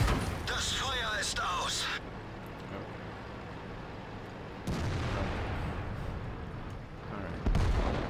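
Tank cannon shots and 120 mm high-explosive shell impacts in the game World of Tanks, with a VK 4502 on the Sand River map: loud booming blasts near the start, middle and end, with sustained rumbling between them.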